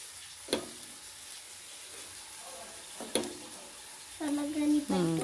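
Masala thalipattu, a multigrain roti, frying in oil on a pan, giving a soft, faint sizzle with a few sharp clinks and scraping sounds, and a voice speaking briefly near the end.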